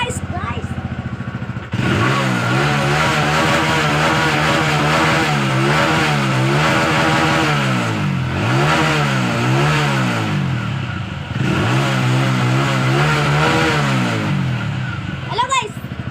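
A motorcycle engine is started and revved repeatedly, with steady, loud, close throttle swells rising and falling over a running idle, and a brief voice before and after.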